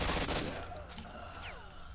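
Gunfire in the video game S.T.A.L.K.E.R.: Shadow of Chernobyl, with a dense burst of shots at the start fading into a rumbling, echoing in-game background with faint whistling tones.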